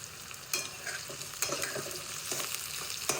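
Onion frying in oil until pink, a soft continuous sizzle broken by sharp scraping strokes of a stirring spoon every second or so, fairly quiet and close.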